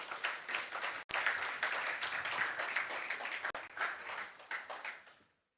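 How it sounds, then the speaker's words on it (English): A conference audience at a law and business event applauds, sustained dense clapping for several seconds that holds steady, then tapers and fades out at the end. "A round of applause as they come,"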